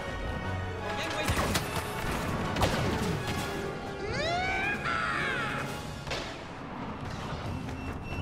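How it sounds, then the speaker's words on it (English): Repeated heavy blaster cannon blasts and crashing booms from Star Wars Battlefront combat, with sweeping electronic whines, loud and continuous under faint voice. "There's a blaster cannon they set up inside the spawn zone"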